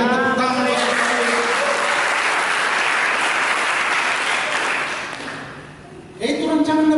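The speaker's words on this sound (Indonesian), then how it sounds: "Berikan tepuk tangan Yesus." Congregation applauding during an Indonesian church service, a dense, loud burst of clapping lasting about five seconds that fades away, with a preacher's voice speaking before and after it.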